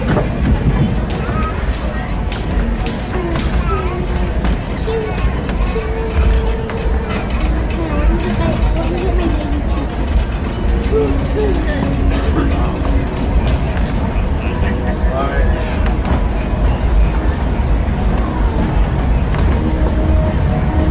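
The Disneyland Railroad train rumbles steadily along its rails, a continuous low clatter with faint squeals and mechanical noise underneath, running the whole time.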